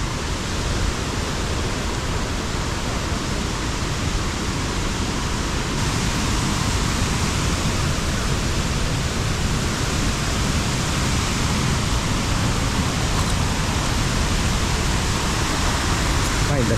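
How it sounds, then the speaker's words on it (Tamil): Heavy water flow at Hogenakkal falls roars as a constant, loud, dense wash of noise with no breaks, drowning out any other sound. "இந்த சத்தத்தை கேளுங்க, தண்ணியோட சத்தத்தை."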